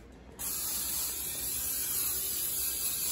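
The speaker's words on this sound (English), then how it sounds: "we're gonna put a little bit of extra virgin olive oil spray." A can of extra virgin olive oil spray releases one continuous hissing burst, close and steady, for about three seconds after a brief quiet moment.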